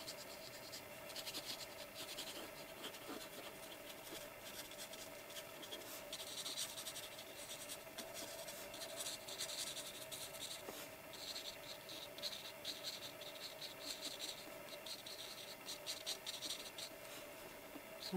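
Felt-tip school markers colouring on paper, close and quiet, a continuous run of quick scratchy strokes with rhythmic back-and-forth rubbing bursts.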